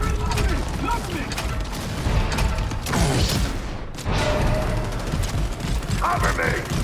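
Weapon reload in Gears of War E-Day multiplayer, with mechanical clicks and ratcheting clacks over a dense mix of distant gunfire and battle noise, and a voice calling out in the game.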